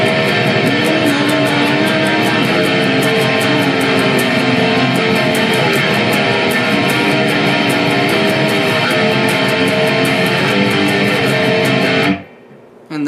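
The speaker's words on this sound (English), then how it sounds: "It's just a bunch of strumming power chords." Distorted guitar chugging power chords in a chorus rhythm, a loud, dense, continuous wall of fast strumming that stops abruptly near the end.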